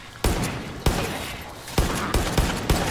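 Rifle shots ring out in Far Cry 5, five or six sharp, loud cracks spaced irregularly, each trailing a short echo.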